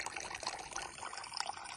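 Milk runs through a pipe into a container, a soft, continuous liquid trickle and splash, faint and close, with small bubbling irregularities throughout.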